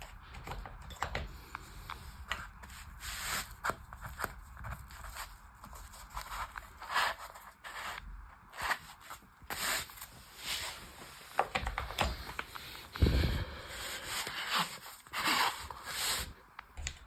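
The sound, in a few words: spanner wrenches being put into a fabric tool roll bag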